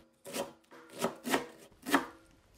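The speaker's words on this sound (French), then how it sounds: "Commencez à la découper. D'abord en fines lamelles, puis en tout petits cubes." A knife slicing a washed and dried leek stem on a board, first into thin strips and then into small cubes: four distinct, quiet cutting strokes, close and unhurried, with no talking.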